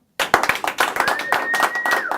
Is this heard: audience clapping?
yes